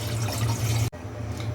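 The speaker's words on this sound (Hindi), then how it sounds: "उसमें पानी ऐड करें" Water poured into a cooking pot, a broad steady splashing rush that cuts off abruptly, leaving a softer trickle and low room noise.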